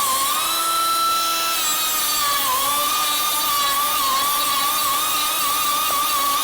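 Angle grinder cutting through welds on a Porsche 356 body, a steady, loud high-pitched whine of a thin blade biting into sheet steel that runs unbroken and close throughout, with no talking.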